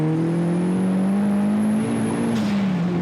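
A turbocharged 1995 M Edition's engine pulls hard on open road, a loud, close, steady drone that rises in pitch, then dips at a shift with a brief turbo whoosh before climbing again.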